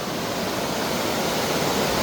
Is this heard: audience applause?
no